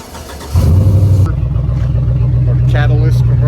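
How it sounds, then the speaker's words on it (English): A car with no muffler fires up after a jump start, bursting into a very loud, rough, raw engine roar that holds steady at close range, with a voice briefly audible over it. "right now we're trying to jump start it so we can start it. It's extremely loud because there's no muffler on it."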